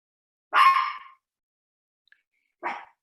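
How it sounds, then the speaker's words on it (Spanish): Puppies barking indoors during a seminar, two short yips about two seconds apart, fairly close and clear against silence. "discúlpenme, pero tengo cachorros"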